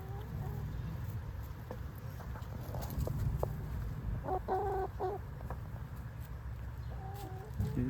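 Chickens and roosters on an organic chicken farm in Canada cluck in short bursts over a steady low background hum, moderately close, with no talking.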